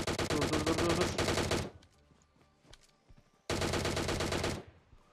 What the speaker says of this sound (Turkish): Evet, bir yerden bana sıkıyorlar.